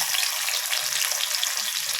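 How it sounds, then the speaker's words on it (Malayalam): Bitter gourd pieces frying in hot oil in a pan give a steady, close, bright sizzle throughout, with no voices. "പാവയ്ക്ക വറുക്കാനായിട്ട് ഒരു പാൻ വെച്ച് കുറച്ച് എണ്ണ ഒഴിച്ചിട്ടുണ്ട് അപ്പോൾ അതിലേക്ക് നമുക്ക് പാവയ്ക്ക ഇട്ട്"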